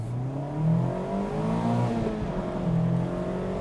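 Convertible car driven hard on a wet road, its rear end sliding during a gear change: a loud, close engine rev that rises and drops through the shift, with a strained tonal whine under it.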